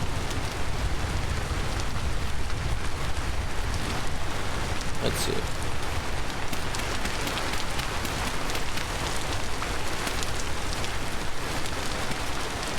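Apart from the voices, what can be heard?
rain falling in the video game Vintage Story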